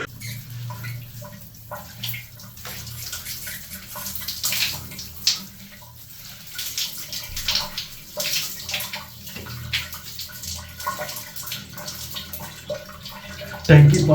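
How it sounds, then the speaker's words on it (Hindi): An electric motor pumps fresh water into a household tank, a steady hissing rush of flowing water with splashes throughout, fairly loud and close, ending in a brief louder thump. "बस अब थोड़ी देर बाद इंशाअल्लाह ये टैंकी ताज़ा पानी से फुल हो जाएगी।"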